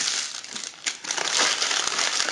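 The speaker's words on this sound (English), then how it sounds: "And when you clean the parchment paper up," Parchment paper crumpled while a pan is cleaned up after baking cat treats, giving a close, continuous crinkling and crushing rustle for a couple of seconds, with no talk.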